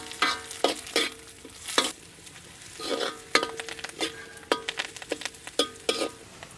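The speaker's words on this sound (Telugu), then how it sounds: "ఇదంతా ఒక 2 నిమిషాలు కలుపుకొని అరటికాయ ముక్కలు వేసేసుకుందాం." Raw banana pieces stirred in a frying pan with onions, curry leaves and garlic, sizzling steadily under repeated sharp scrapes and clinks of a spoon against the pan, with no voices.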